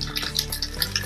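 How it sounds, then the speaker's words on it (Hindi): Dense sizzling and rapid crackling pops of mustard seeds frying in hot oil for a chutney tempering, steady and close. "राई चटकने लगी है"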